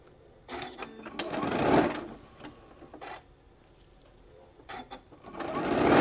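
A sewing machine joins panels of a peekaboo color-pop shoulder bag, whirring in two louder runs at the start and end with a quieter stretch between, close by and without speech over it.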